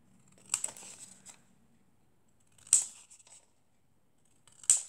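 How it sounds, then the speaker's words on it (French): Scissors snipping the corners off a sheet of paper being shaped into an octagon, three separate short cuts spaced a couple of seconds apart, close and crisp, with faint paper rustle between them. "Et là, on prend le ciseau. Hop, et on coupe nos coins."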